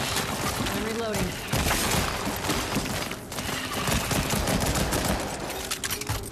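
Rapid gunfire in the VR game After the Fall: quick repeated shots and crackling impacts come in a dense, busy stretch, with a voice speaking over the action.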